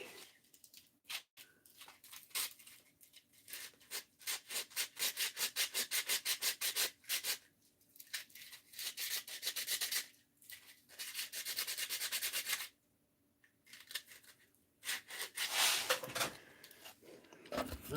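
Steady rhythmic sanding strokes rasp back and forth on a knife handle, fast and close, with a few brief pauses and a louder scrubbing stretch near the end.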